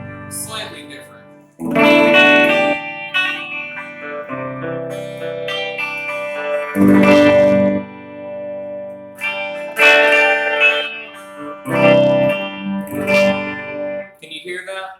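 An electric guitar is strummed with a Dorito-style pick through distortion and effects, giving bright, layered chords that ring out in short bursts with reverb-like tails and brief gaps between them.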